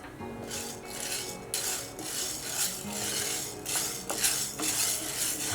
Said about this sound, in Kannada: ನಾನಿಲ್ಲಿ ಅರ್ಧ ಕಪ್ನಷ್ಟು ಹೆಸರು ಕಾಳು ತೊಗೊಂಡಿದ್ದೀನಿ ಇನ್ನು ಸ್ವಲ್ಪ ಹುರ್ಕೊಳ್ಳೋಣ